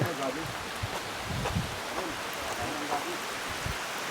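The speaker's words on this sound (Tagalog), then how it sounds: "Biglang umulan pagdating natin." Rain falls beside a river in Camarines Norte, a steady broadband wash of drops with some rustling, while people talk under and over it throughout.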